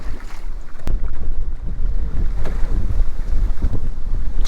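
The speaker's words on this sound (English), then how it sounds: "wind is about pushing me over" Strong wind buffets the microphone aboard a bass fishing boat, a loud continuous low roar with gusty rumble and faint water sounds, no talking.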